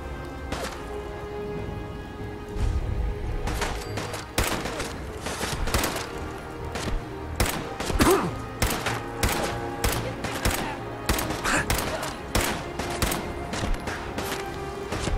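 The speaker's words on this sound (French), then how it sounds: "il y a des balles qui passent pas loin" Gunfire in Fallout 4 cracks in rapid, irregular shots at close range, sharp snaps repeating over a low steady ambient bed for the whole stretch.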